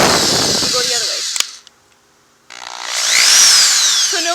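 A power drill whirs loudly, stops with a click and a short silence, then spins up again in reverse with a rising whine and rattling grind.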